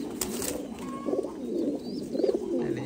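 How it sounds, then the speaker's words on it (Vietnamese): Thai Titan pigeons, a heavy meat breed kept as breeding pairs on a farm, coo in repeated low, throaty bursts close by, with a faint higher bird chirp in the background. "Chào mọi người đi xem một vòng chim bồ câu, những cặp chim bồ câu rất đẹp."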